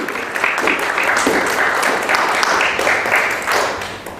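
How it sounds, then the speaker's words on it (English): A large conference audience at a summit applauds steadily as a guest comes up, dense sustained clapping at even loudness throughout with some murmur under it. "Let's welcome Bob even as he comes with a round of applause"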